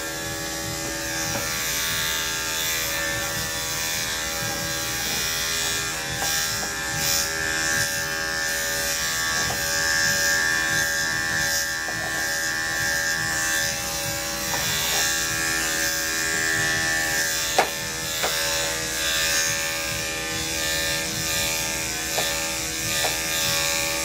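Electric dog clippers fitted with a 3/4 inch guard trim a Shih Tzu's coat, making a loud, steady, close motor buzz that runs unbroken for the whole stretch with no speech.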